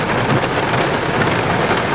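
Heavy rain pours down steadily during flooding at a park, a dense, loud, unbroken hiss with no voices.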